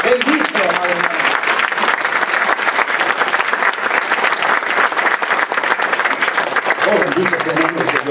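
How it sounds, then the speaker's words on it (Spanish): Congregation in a church service applauds a church member, sustained crowd clapping with a voice talking over it through much of the applause. "Dale un aplauso, bendícelo, amado hermano"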